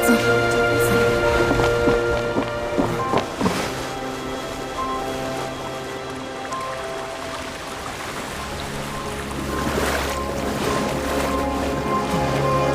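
Rushing, draining water in the Genshin Impact video game, a broad watery wash with pouring and splashing layered over sustained game music tones, loud at first, easing in the middle, then swelling again.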